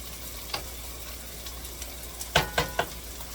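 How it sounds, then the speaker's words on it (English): Bacon and ham fry in a pan with a soft, steady sizzle, broken by a few brief clicks and scrapes from stirring. "I'm going to throw in this bacon and this ham in there."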